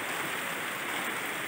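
Steady, soft rain hisses evenly on an outdoor work site, a continuous wash with no voices or distinct drops standing out.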